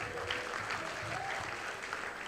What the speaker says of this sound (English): I'm gonna clap for me now.